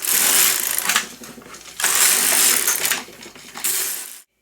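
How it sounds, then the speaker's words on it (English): An LK150 knitting machine carriage knits stockinette stitch, making three bursts of clattering, ratcheting mechanical noise as it is swept across the bed and back, with brief pauses between passes. "I'm going to put my carriage in knit in both directions, so it's going to knit this way and knit this way."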